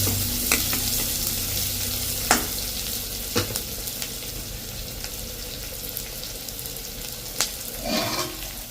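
Curry leaves and onions sautéing in a pan give a soft steady sizzle with scattered sharp clicks of a utensil scraping and stirring, faint and close, with no voices.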